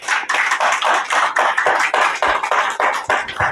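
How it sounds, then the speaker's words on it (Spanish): A church congregation claps hands together in a steady rhythmic beat, about fifteen sharp loud claps at an even tempo, with no voices over them. "Dale fuerte palmas al Señor."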